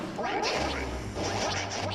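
Ducks quacking and attacking in Zelda: A Link Between Worlds, a flurry of short squawks mixed with hit and impact sounds and low music beneath, steady and fairly loud throughout.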